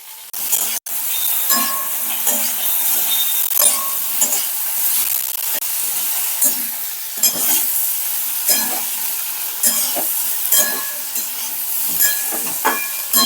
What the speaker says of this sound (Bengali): তো ঢ্যাঁড়সগুলো আমার ভাজা হয়ে গেছে অল্প করে আমি একদম হালকা ভেজেছি